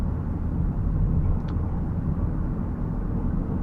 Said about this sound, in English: the cabin noise in here,